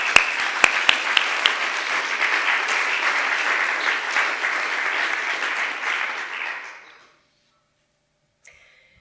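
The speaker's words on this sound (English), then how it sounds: "Let us say thank you to all of you with a very warm applause" Warm applause fills a graduation ceremony hall for about seven seconds from a large seated audience, with a few sharp nearby claps at the start, then fades to near silence.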